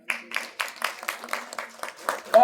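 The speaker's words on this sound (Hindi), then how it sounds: "दादा के लिए जोरदार ताली।" Applause for Dada at a farewell ceremony for an SDM at Gurukripa Garden in Sabalgarh, a sparse, fairly quiet round of claps from a small crowd, roughly even in rhythm.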